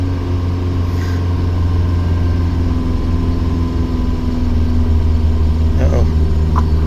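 A 1983 K-car wagon with a five-speed, revived after thirty years, runs steadily after cranking, a low, even engine drone held close throughout with a few faint clicks near the end.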